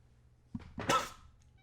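A house cat gives one short, close meow that rises and fades quickly in an otherwise quiet room.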